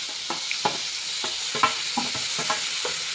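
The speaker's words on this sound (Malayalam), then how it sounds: "ഇതിലേക്ക് തക്കാളിയും പച്ചമുളകും ഇട്ട് കൊടുത്ത് ഒന്ന് വഴറ്റിയെടുക്കാം." Tomatoes and green chillies sautéing in a pan give a steady sizzle, broken by soft scraping stirs of a spatula at a slow, uneven rhythm. Close and moderately loud, with no talking.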